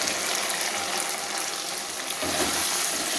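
Fried soy chunks tip into a sizzling vegetable curry of potatoes, pointed gourd and chickpeas, giving a steady close hiss of frying with a brief stirring rustle partway through, no voices.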